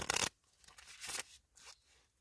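Tarot cards being shuffled in a few short bursts: a loud riffle up front, then softer flurries of card noise separated by brief pauses, close by with no talking.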